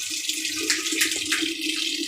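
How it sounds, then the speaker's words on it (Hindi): Water is poured over hot-dip galvanized fasteners to rinse them, making a loud, continuous splashing rush that surges slightly in places and then stops abruptly. "पानी डाल के नॉर्मली क्लीन करेंगे।"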